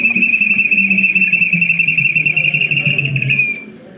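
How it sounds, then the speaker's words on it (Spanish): A Chimú ceramic whistling vessel sounding a seagull call: a loud, sustained high whistle held for about three and a half seconds with a faint fluttering texture, then fading out. "El canto de gaviota,"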